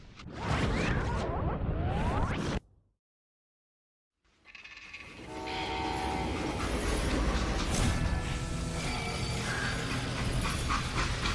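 A freight train in a video game rumbles and clatters along the tracks, cutting briefly to silence before the rolling, rattling train noise returns steadily and fairly loud.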